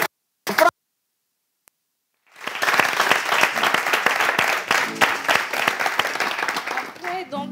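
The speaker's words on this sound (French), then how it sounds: "Merci, les applaudissements, s'il vous plaît." A studio audience on a French television show rises into applause after a brief snatch of voice and a silent gap, then a dense, loud burst of clapping that holds steady before tapering at the end.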